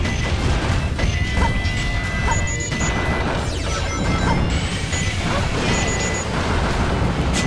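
Missile explosions in the video game Sonic Adventure 2 Battle, a loud continuous barrage of blasts and crashes with thin electronic beeps and tones running through the din.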